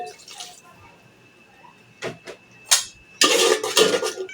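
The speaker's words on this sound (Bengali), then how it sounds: "আদা রসুন পেস্টটাকে ভাজা হয়ে গেছে এখন আমি দিয়ে দিচ্ছি পানি" Water is poured into a pan of fried ginger-garlic paste while cooking khichuri and beef curry; a few light utensil clinks come first, then a loud, close burst of hissing and splashing.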